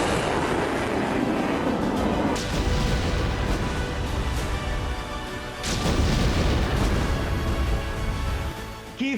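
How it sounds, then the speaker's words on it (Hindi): Deep, heavy booms roll through continuous low rumbling, with a couple of louder blasts standing out; distant explosions or artillery in Kyiv during the Russian assault, no voices. "कीव में धरती फाड़ धमाके हो रहे हैं।"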